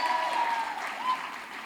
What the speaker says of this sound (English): let's give her a round of applause for all their good work